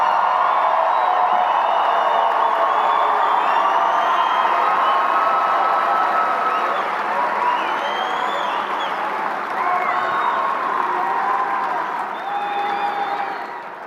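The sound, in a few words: graduation crowd cheering and applauding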